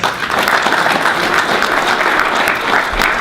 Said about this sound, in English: I gotta give him a round of applause